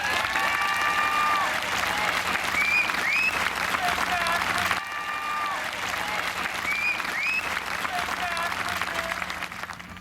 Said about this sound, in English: Please help me in honoring this group with a round of applause.